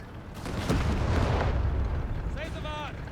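Anti-tank gunfire and explosions in the video game Company of Heroes 3, a deep booming burst that rumbles on and fades, with a voice speaking near the end.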